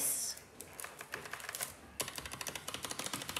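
Logitech POP Keys keyboard, keys clicking in a quick irregular patter of sharp, close taps, with a short pause before a denser burst of typing.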